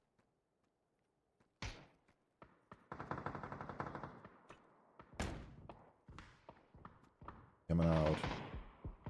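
Bursts of automatic gunfire and single shots crackle through a battle royale esports match, with loud rapid volleys and sharp isolated cracks over several seconds while a commentator speaks briefly.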